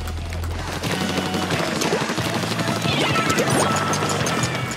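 Grenade blasts in the Splatoon Global Testfire online match: loud, close crashing bursts with splattering impacts and rapid cracks. The noise is dense and continuous across the clip, and no voices are heard.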